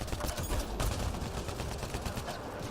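Sniper rifle gunfire in the video game Mass Effect Andromeda, heard as a dense, loud burst of shots and impacts layered over continuous game noise. It runs throughout, with no voices.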